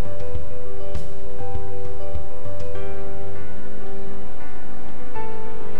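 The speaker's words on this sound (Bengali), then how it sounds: "এঁচোড়টাকে একটু লাল করেই ভেজে নেব।" Boiled unripe jackfruit sizzles in hot oil in a wok, a dense, steady crackle of frying with scattered pops and a low background hum, close and continuous throughout.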